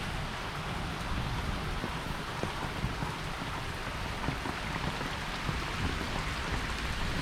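Steady rain falls outdoors near a pond, a constant dense hiss with scattered drops and no clear thunderclap.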